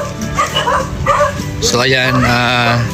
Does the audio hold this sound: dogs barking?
yes